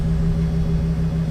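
RV front leveling jacks on a 2015 Thor Windsport 34J bunk motorhome lowering while the engine idles, a steady close low hum and rumble with a constant droning tone throughout, no talking.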